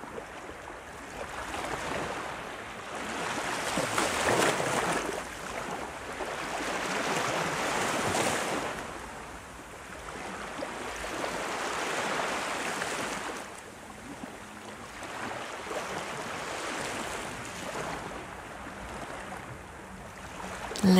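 Ocean waves wash onto the shore in slow, rolling surges that swell and fade every few seconds, a broad steady hiss of surf with gentle wind underneath.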